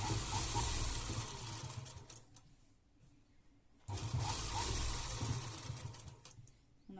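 A sewing machine stitches lace onto a kameez in two close, steady bursts of rapid whirring, separated by a short quiet pause when the machine stops.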